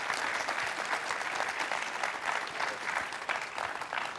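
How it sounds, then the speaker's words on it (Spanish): Audience applauding panel members at the close of a report launch discussion on Afro-descendants in Latin America, a full, continuous round of many hands clapping with a steady rhythm, fairly close and sustained. "Por favor, un fuerte aplauso para los miembros del panel."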